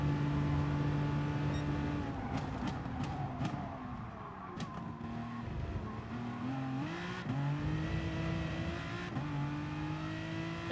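A race car engine in Gran Turismo Sport drones steadily and loudly through an FIA online race, its pitch stepping up and down with gear changes and a few sharp clicks over the top, with no talking.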